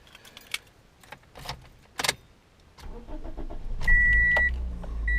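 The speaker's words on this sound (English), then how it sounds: "we'll get in the car, fire it up," A Toyota Matrix, just back from an engine mount repair, has its door closed and keys jangled before the engine cranks and catches. It settles into a steady, close idle while a warning chime beeps over it.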